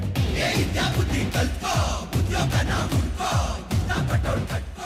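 A crowd at a Kannada film pre-release event claps and cheers loudly, a dense, continuous wash of applause with rhythmic surges and shouts throughout.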